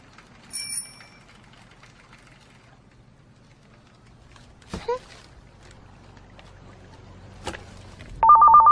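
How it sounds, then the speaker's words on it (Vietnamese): Telephone ringing in an animated film, a bright trilling ring that starts abruptly near the end after quiet scattered sounds and a few brief voice-like bits. "Vũ Nhi, nghe điện thoại đi con."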